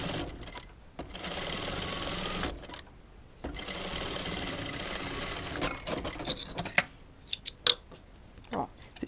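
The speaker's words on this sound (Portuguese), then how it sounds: "Vou dar um pezinho de máquina aqui, ó." A sewing machine stitching fabric runs in steady whirring bursts with short pauses between them, followed by scattered clicks and handling taps near the end.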